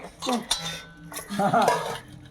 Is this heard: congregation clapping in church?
no